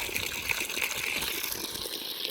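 Water gushes steadily from the 1.25-inch pipe of a solar water pump in Namakkal district, a loud, close, continuous rushing splash with no talking.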